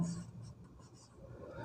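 A marker writing on a board in a classroom lesson, faint soft squeaks and scratchy strokes heard close while a teacher speaks over it.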